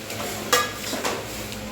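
Steamed dhokla being cut and stirred in a pan for tempering, a few soft scraping and clinking strokes against the metal over a faint background hiss, close and brief.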